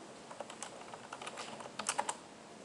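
Keys clatter on a computer keyboard while someone types a command into a Linux terminal, soft, close, irregular taps that speed into a brisker flurry near the end.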